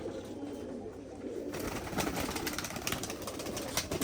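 Soft, low coos from old Giribaz pigeons repeat close by, layered over a rustling background and the flutter of birds moving.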